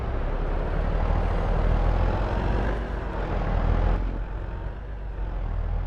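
A Phoenix truck in Farming Simulator 22 runs with a good-sized engine, a steady low droning rumble with a slight dip and swell partway through, fairly loud and without talk.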